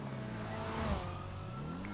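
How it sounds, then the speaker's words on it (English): A car passing close by on a street, a steady engine rumble that swells briefly and then fades, heard alone with no talk. "I almost got hit by a car."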